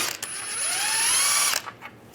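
A ratchet fitted with a 13mm socket loosens steering rack bolts on a 1998-2010 Volkswagen Beetle, giving a close, steady run of clicking about a second and a half long before it stops.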